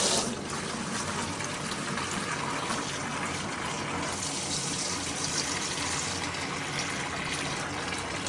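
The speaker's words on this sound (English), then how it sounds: "So now let's add water and see what happens to the PETG." Water pouring from a tap into a bucket holding a PETG print, a steady loud gushing fill that runs continuously and evenly with no talk.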